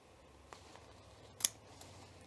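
Scissors snip into the corners of fabric for a welt pocket, with a few quiet, separate cuts and one sharper snip standing out in a hushed room.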